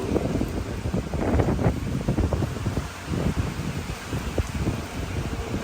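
Strong typhoon wind roars and buffets steadily, with loud gusty rumbling close by and rustling in the background.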